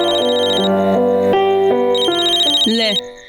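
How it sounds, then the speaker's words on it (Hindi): A mobile phone rings with an incoming call, playing a bright repeating melodic ringtone that is loud and close, then cuts off abruptly near the end. "आ गया उसका फोन।"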